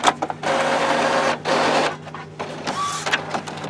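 Epson WorkForce inkjet printer mechanism whirring and shuttling as the carriage moves across to check ink cartridges, in several loud mechanical bursts with brief pauses and a short high whine near the end.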